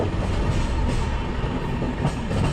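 The Gitanjali Express runs on rails into Kharagpur, a steady loud rumble of wheels with rhythmic clickety-clack heard from on board, no voices.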